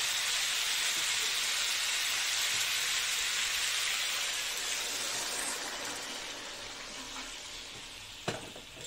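Hot water poured into sukto curry simmering in a pan gives a steady, broad sizzle and bubbling hiss that eases off slightly toward the end, with one brief clink near the finish.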